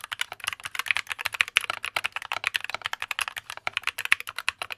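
Typing on a modified Aeon Gaming AC61M keyboard, a rapid, close run of crisp key strikes in an uneven rhythm with no speech.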